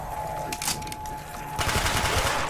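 Rapid gunfire in a Call of Duty zombies match on the Ascension map, a dense burst of shots that grows louder and busier toward the end of the short stretch.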